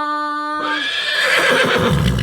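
A horse stallion on a farm gives a loud, close neigh that starts with a clear whinny, then breaks into a rough, breathy snorting trail lasting about two seconds.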